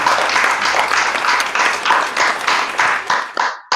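An audience at a Holi kavi sammelan poetry gathering applauds in a dense, loud burst of clapping that rolls in waves and trails off into scattered claps before stopping abruptly.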